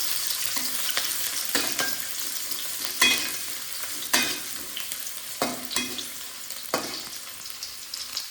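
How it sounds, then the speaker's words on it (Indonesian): Shallots stir-fry in hot oil for a bottle-gourd dish. A steady close sizzle continues throughout, broken by repeated scraping spatula strokes at an irregular rhythm, with no voices. "Bawang merah. Kita tumis sampai wangi."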